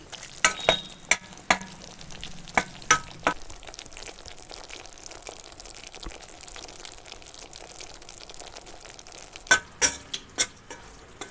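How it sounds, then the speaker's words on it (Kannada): Wheat flour roasts in a pan on low heat while a spoon stirs it, giving scattered scraping clicks and taps in bursts at the start and end, with a faint quiet sizzle between them and no talking. "ಈಗ ಇದು ಹುರಿತಾ ಇದೆ ಅಲ್ವಾ?"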